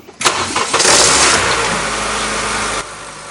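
An engine cranks and catches on the disinfectors' truck in the video game Nozophobia, a loud start that settles into a steady, rumbling idle before cutting off abruptly near the end.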